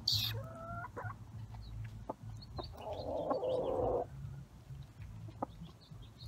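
Backyard chickens with a rooster clucking near the person feeding them, a few short calls and a brief raspy squawk over a low background hum.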